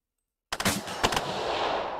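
A burst of rapid machine-gun fire from the war video game Second Front follows half a second of silence, with loud close shots that hold into a steady rumbling tail.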